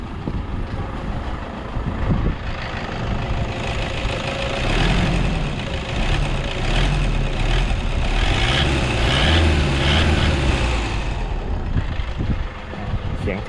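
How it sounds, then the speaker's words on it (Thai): A Toyota Vigo 2.5 turbo diesel pickup engine rumbles loudly close by, rising and falling as it is revved several times, with some faint talk underneath. "ลองเร่งเครื่องดู"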